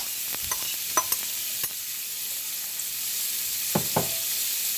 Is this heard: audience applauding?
no